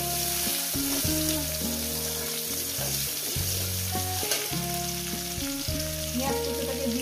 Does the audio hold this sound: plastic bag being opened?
no